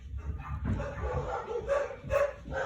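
Several dogs barking in repeated short bursts at moderate distance indoors, with a voice faintly talking alongside.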